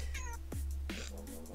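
A cat meows several times in quick succession, rising and falling wails at close range over a steady low hum, with a brief voice in the background.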